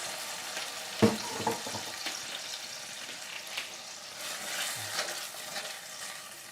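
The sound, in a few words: stirring tomatoes in a pan of sauce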